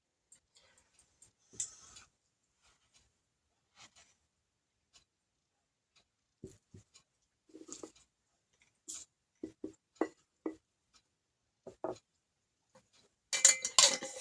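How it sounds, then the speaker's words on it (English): Black salt being stirred into a sachet powder blend, heard as sparse, faint scrapes and taps scattered through quiet, ending in a louder burst of gritty rattling. "So we're going to just mix this together"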